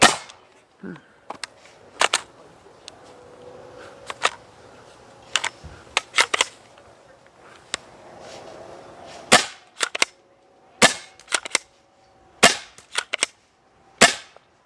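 A Spyder Hammer 7 paintball marker fires a string of sharp, loud individual shots with irregular gaps, some quickly doubled and others spaced a second or more apart, against quiet background.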